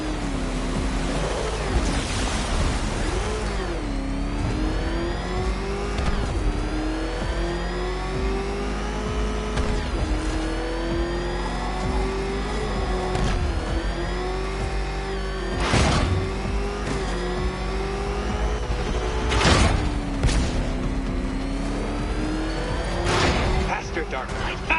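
Batmobile engine roaring at speed in a Batman video game, a steady loud drone with rising and falling pitch and several sharp bursts, under continuous game voice dialogue.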